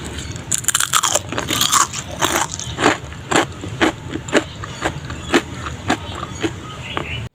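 Crisp crunching bites into fried patola leaves, a series of sharp crackly crunches roughly every half second with chewing between them, close up and with no talking.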